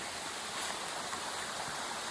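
Steady rushing of water flowing in a stream, a constant close hiss and gurgle with no pauses.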